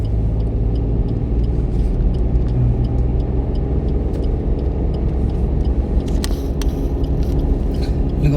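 Car engine running loud and steady on a rough road, a continuous close rumble with light mechanical rattles and clicks near the end.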